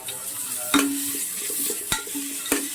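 Ginger garlic paste sizzles in hot oil for carrot rice, a steady close frying hiss broken by a few sharp spoon scrapes and stirring taps against the pan.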